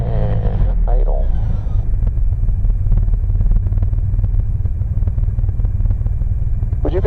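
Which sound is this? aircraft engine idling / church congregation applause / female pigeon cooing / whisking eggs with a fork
aircraft engine idling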